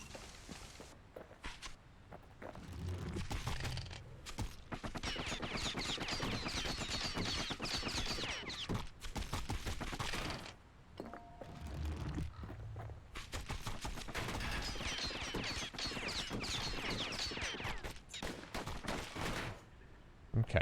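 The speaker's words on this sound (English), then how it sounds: "repeater seems to fire quicker, I feel, but the dual wield pistols" Dual wield pistols firing in the video game Bastion, rapid crackling volleys in long sustained bursts separated by short pauses, with footsteps and scraping between them.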